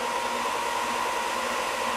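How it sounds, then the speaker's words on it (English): An electric sander runs continuously outdoors in a field, a steady, loud whirring drone with a broad hissing edge and no breaks. "when I turn on the sander, you'll actually hear the sander on one side of the field over there"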